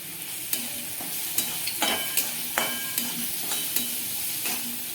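Ground chutney and onion frying in oil while being stirred, a constant close sizzle broken by regular spoon scrapes and clacks against the pan, no voices.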